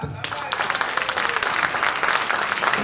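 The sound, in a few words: audience applause at a debate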